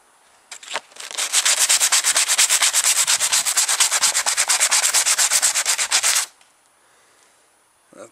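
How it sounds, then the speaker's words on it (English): Sandpaper rubbing rust off a steel throwing knife, a steady run of fast back-and-forth scraping strokes for about five seconds, loud and close, then silence with a brief rub at the end. "Just gonna give it a little sanding here, maybe remove a little bit of this rust"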